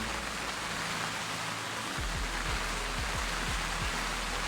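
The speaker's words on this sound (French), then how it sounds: "il pleut énormément, il y a beaucoup de vent en même temps" Steady, dense rain from a night storm pours down with a constant hiss, joined partway through by low rumbling gusts of wind buffeting the microphone.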